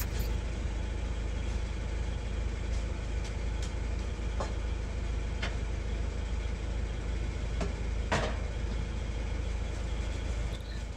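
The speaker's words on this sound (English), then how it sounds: "the noise in the background that you're hearing is my skid steer" A skid steer runs steadily in the background outdoors by a pond in winter, a constant low engine drone throughout with a few faint clicks and knocks on top.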